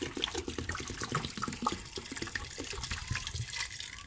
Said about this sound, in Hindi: साथ इसमें हम पानी ऐड कर देंगे।